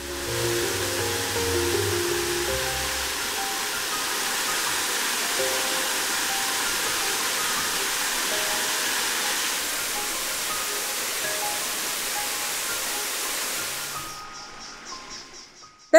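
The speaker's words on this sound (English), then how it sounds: "The force of the waterfall has carved a hole into the basalt rock" A waterfall in Springbrook National Park pours into a basalt rock hole, a steady broad rush of water that fades and thins near the end.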